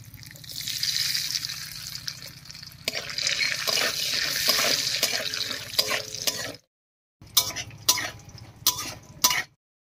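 Lentil dumplings (bori) frying in hot mustard oil in a wok, a bright continuous sizzle close up that cuts off, then returns in short bursts, no talk.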